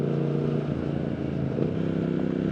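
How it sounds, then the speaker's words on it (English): Engine growl from a Triumph Speed Twin motorcycle under throttle, a steady, dense, loud rumble with harmonic layers holding close and continuous for the whole stretch, no voices. "pulling the throttle in any gear and hearing the engine growl"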